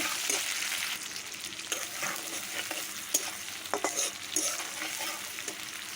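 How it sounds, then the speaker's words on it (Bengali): Chopped onion and bay leaf frying in hot oil in a wok crackle and sizzle steadily, with repeated scraping stirs of a spatula close by. "কড়াইয়ের মধ্যে আমি আবারও তেল দিয়ে দিচ্ছি দিয়ে দিচ্ছি তেজপাতা দিয়ে দিচ্ছি পেঁয়াজ কুচি কিছুক্ষণ নাড়িয়ে নেব"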